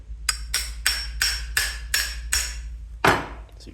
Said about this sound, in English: Might need to use a hammer.